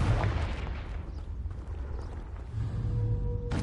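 A Confringo blasting spell cast in Hogwarts Legacy on PS5 makes a loud, sustained booming rumble with crackling bursts, lasting the whole stretch, then ending in a sharp bright burst.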